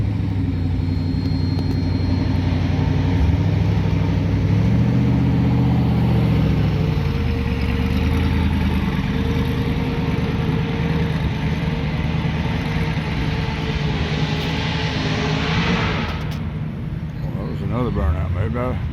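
A car doing a burnout, a loud sustained engine roar with a rising and falling pitch that fades in the last few seconds, with a crowd noise bed underneath.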